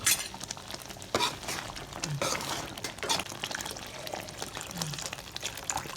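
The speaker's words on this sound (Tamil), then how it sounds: "புளி கரைச்சி ஊற்றியாச்சு." Dissolved tamarind water poured into a simmering ash gourd sambar: a short liquid pour and splash with light clinks of a vessel, close and moderately loud.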